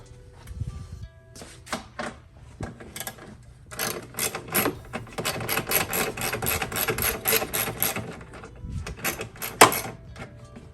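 Four 10mm bolts come out of the top of a Genesis G70 front bumper with a ratchet, giving a close run of rapid clicking and whirring bursts and a few metallic clinks in between.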